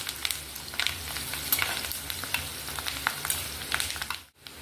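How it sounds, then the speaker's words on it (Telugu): Chopped onions with turmeric sizzle in a hot pan, a steady crackling hiss broken by frequent stirring scrapes, close and unaccompanied by talk. "ఉల్లిపాయలు కొంచెం ఫ్రై అయ్యాయి కదా"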